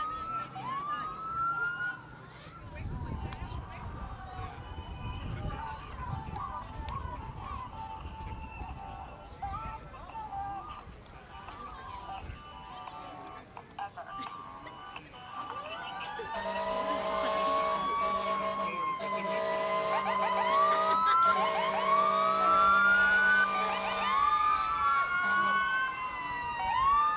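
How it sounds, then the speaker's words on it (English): A fire truck's wailing siren rises and falls repeatedly at a holiday lights parade, growing louder midway with horns and engine noise joining, after quieter street sounds with some talk. "those sirens could only mean one thing. What? Fire truck."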